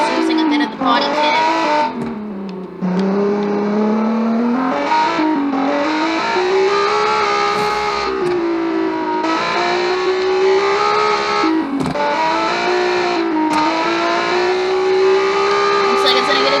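A rally race car at a 2012 BRC small island rally pulls off the course, its engine a loud, continuous droning whine that rises and falls in pitch throughout, with a few sharp knocks.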